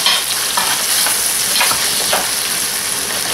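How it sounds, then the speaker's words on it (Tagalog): Mixed seafood sautés with tomato in a hot pan, a loud dense sizzle that holds steady while a spatula stirs with soft intermittent scrapes, close up and free of talk. "Lagay na natin yung mixed seafood. So, igisa lang natin ito."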